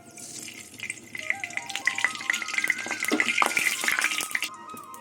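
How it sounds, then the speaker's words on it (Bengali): Mustard oil hitting a hot wok, crackling and hissing with bright spitting pops that build and continue for several seconds, close and fairly loud. "কড়াই গরম হয়ে গেছে এবার তেল দিয়ে দেবো সর্ষের তেল"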